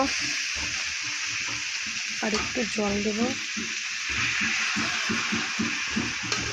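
A curry fries in a pan while being stirred, giving a steady sizzle with soft scraping strokes and a brief faint voice partway through.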